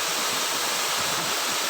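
Penembang waterfall in Bengkulu Tengah roars as a steady, even rush of falling water, loud and close with no breaks.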